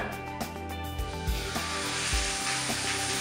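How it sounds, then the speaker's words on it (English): Steak frying in a hot pan, a dense broadband sizzle and hiss held steady and close, with a few soft low thumps as the meat settles. "I will fry it about 5-6 minutes"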